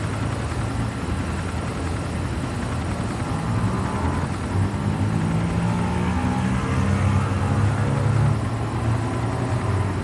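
An aircraft flies and comes in to land over the city in the video game Gangstar Vegas, a steady loud propeller-engine roar with a slowly shifting pitch that fills the whole stretch without any talk.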